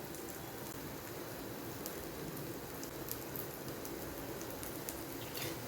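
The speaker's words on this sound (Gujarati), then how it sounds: "ઉપરથી આપણે થોડો વઘાર નાખીશું" Hot tempering (vaghar) poured over green corn handvo batter gives a steady, even sizzling hiss that stays constant and fairly soft, with small crackles and no voices.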